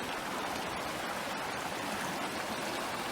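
A creek that feeds a reservoir flows with a steady, close, broadband rush of water that holds even and unbroken throughout.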